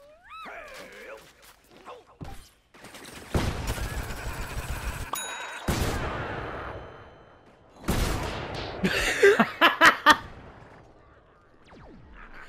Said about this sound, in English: Christ, those explosions are brutal.